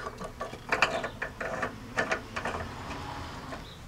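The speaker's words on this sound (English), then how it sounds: "you're going to need a 17 millimeter socket to tighten these up" A 17 mm socket ratchet tightens tow hook bolts on a 2015-2022 Jeep Grand Cherokee WK2, giving a series of quick close metallic clicks in short bursts.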